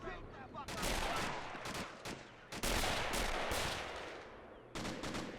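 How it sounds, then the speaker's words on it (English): Machine gun fire in Men of War: Assault Squad 2, with long dense bursts of rapid automatic shots and gaps between them, loud and close, layered over wider battle noise. "we can't let that MG fire off all day"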